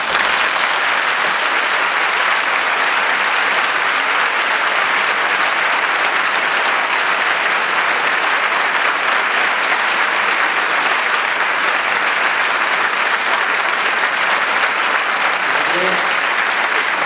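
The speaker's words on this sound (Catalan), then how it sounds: "Vos demane un fort aplaudiment per a ells." A large audience at a Muro traditions show gives strong, sustained applause for named local helpers, a loud, continuous wall of clapping lasting the whole seventeen seconds, with faint voices underneath.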